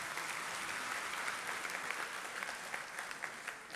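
Steady applause from a room full of people, a dense continuous patter of clapping that holds at an even level throughout.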